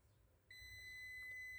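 A multimeter on continuity test gives a steady, clear electronic beep that starts suddenly and holds, quiet and close, while probing a diode on a MikroTik RB912 board under repair.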